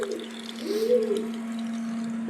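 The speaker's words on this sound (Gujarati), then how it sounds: "અને મોટર હાલતી કરી દીધી છે" A steady motor hum drones on evenly with a brief watery swell, a pump running close by without pause.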